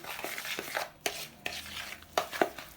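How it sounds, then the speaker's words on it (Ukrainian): Semolina and kefir are stirred together in a bowl for a banana semolina cake, a quiet, close scraping with a few soft knocks against the bowl and no talking. "Все це добре перемішуємо манку з кефіром."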